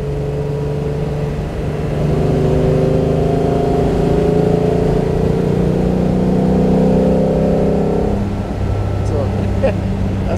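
A 1957 Mercedes 300 SL Roadster straight-six pulls hard under acceleration past 100, with its steady engine drone climbing in pitch and briefly easing around a gear change near the end, all close and loud with wind noise.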